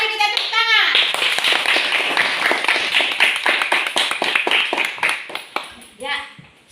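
A class of children claps together in a classroom, a fast run of sharp, close hand claps building into a steady patter, with children's voices calling out at the start and at the end.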